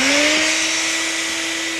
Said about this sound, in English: Make sure your shop vac is properly grounded and turn it on.